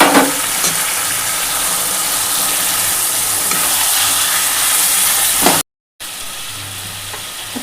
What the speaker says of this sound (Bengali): ম্যারিনেট করা চিকেনটা দিয়ে দিচ্ছি